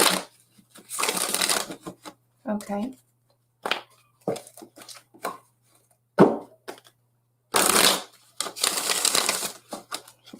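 Tarot cards are shuffled by hand in short bursts of riffling and slapping, close and crisp, separated by pauses, with a brief spoken word between them.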